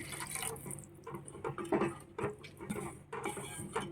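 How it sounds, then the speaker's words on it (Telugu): Water poured into a pot of Telangana-style fish curry, a faint, uneven trickle and splash with small drips and clinks over a few seconds, no voices. "ఇంత వాటర్ అయితే పోసుకుంటున్నాను"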